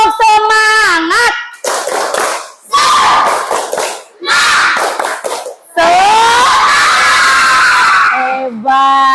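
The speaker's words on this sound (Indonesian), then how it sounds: "Tepuk semangat." A group of learners in a classroom session performs a rhythmic spirit clap, bursts of sharp hand claps alternating with loud shouted chanting and cheers from many voices in several short, energetic phrases.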